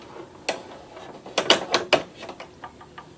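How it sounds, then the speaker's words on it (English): A domestic sewing machine runs a tack-down stitch along a row of fabric scallops, giving a brief mechanical whir followed by a cluster of rapid clicking, ratcheting knocks that trail off into fainter taps, with no talking. "And then it's going to sew a tack down stitch."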